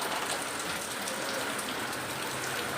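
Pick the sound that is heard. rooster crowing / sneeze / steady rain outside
steady rain outside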